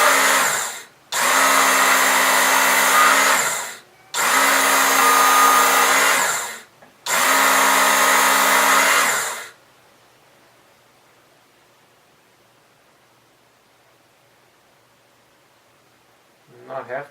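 A Work Sharp powered knife sharpener runs in three loud, close bursts of steady whirring grinding, each lasting a few seconds with brief gaps between, then the motor stops and near-silence follows.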